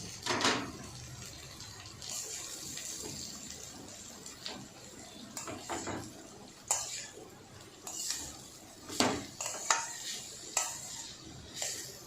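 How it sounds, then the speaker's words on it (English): Grated carrot frying in ghee left over from cashews and almonds, a soft steady sizzle broken by repeated scraping stirs, close up, with no talk. "Now let us fry the grated carrot in the same ghee in which we have fried the cashew and almond."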